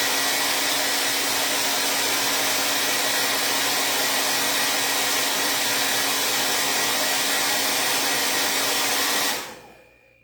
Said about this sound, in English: I'm going to blow dry this real quick